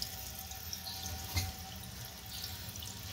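Water gushes steadily from a tap in a continuous broadband hiss, with a brief clunk midway, fairly close and alone.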